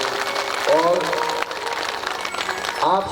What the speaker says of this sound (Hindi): एक बार हमारे बाबूजी और मैया के लिए जोरदार तालियों से सेवा दे दो